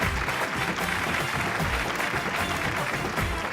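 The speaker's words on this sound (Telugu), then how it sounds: "చప్పట్లు కొట్టండి." Applause from a studio audience on a Telugu TV serial set, steady dense clapping held at full loudness throughout with no pauses.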